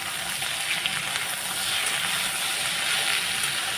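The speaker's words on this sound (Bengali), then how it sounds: "এটাও ভাজা ভাজা হতে থাকছে" Mixed vegetables fry in a pan with salt and turmeric, giving a steady, close, bright sizzle with faint stirring and no talk.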